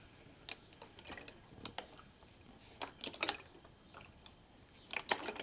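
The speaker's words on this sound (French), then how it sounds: "Juste le clapotis de l'eau sur cette barque verte, vert pomme, vert tendre, en bois" Water laps gently against a green wooden rowboat drifting on water, soft irregular drips and splashes, close and quiet, with no talk.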